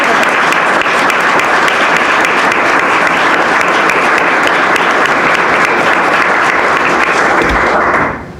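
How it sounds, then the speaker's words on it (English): A gala audience gives the candidates a long round of applause, dense and loud clapping held steady for about eight seconds before it tapers off abruptly at the end. "Let's give our candidates another round of applause."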